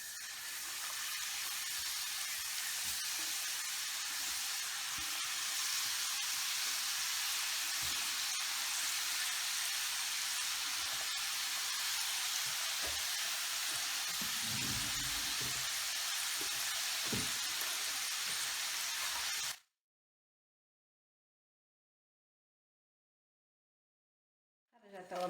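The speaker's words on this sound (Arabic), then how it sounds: "نحطها في الزيت تطيب" Rechta noodles fry in hot oil for Tunisian msha'ash pastry, giving a steady broadband sizzle that runs unbroken for about twenty seconds with a few low bumps, then cuts to silence.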